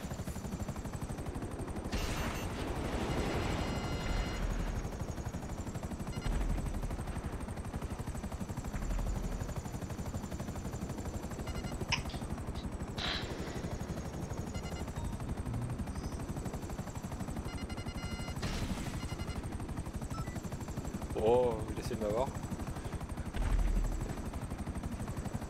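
In Grand Theft Auto V Online aerial combat against a fighter jet, a constant aircraft engine drone carries through, broken by short bursts of rapid gunfire.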